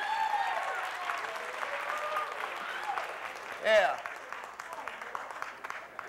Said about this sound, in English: Let's give them a round of applause for being so brave.